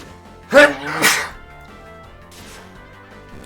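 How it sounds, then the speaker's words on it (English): A single loud sneeze bursts out close to the microphone, a sharp intake-and-release pair, followed by quiet background game music. "I'll sneeze at least once."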